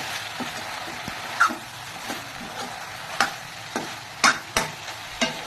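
Soybeans with spices sizzle in a pan under a low hiss, broken by scraping clacks of stirring that come at irregular moments, several of them sharp and close.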